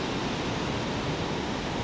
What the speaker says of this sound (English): waterfall right here.